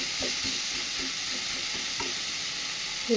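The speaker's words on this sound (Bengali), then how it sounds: "ভালো করে এবার এটাকে ভেজে নেবো" Shrimp sizzling in a pan with oil while being stirred for a mustard flower mash, a constant frying hiss with soft scraping strokes of the spatula, close and alone.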